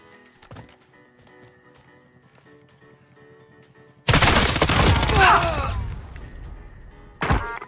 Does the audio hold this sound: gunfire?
yes